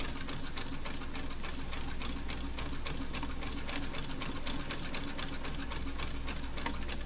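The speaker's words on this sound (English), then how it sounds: "So that's about as loud as my machine is going to get." A sewing machine runs steadily, its needle tapping in a fast, even rhythm over a low motor hum, close by with no talking.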